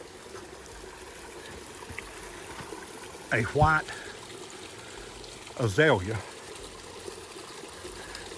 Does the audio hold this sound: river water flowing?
yes